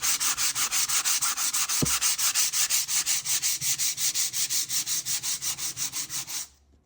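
Sandpaper rubs paint off a window in fast, regular back-and-forth strokes, loud and close, with one brief knock partway through before the sanding stops.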